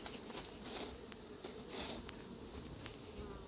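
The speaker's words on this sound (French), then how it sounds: "c'est difficile d'attraper les abeilles quand il y en a partout" Honeybees swarm around an apiary with a faint, continuous buzz that swells and fades as individual insects pass near, with occasional soft taps and no talking.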